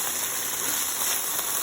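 Mixed vegetables with onions and pepper fry in a wok, giving a steady, close crackling sizzle that runs throughout with no talking.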